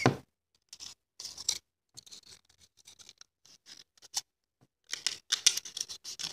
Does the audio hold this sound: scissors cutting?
yes